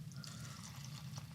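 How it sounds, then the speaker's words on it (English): Orange juice poured over a bowl of cereal, a soft, steady trickling and splashing of liquid at close range, continuous and moderately quiet throughout. "Now it is time to finally pour the orange juice on top of this with all its frothiness."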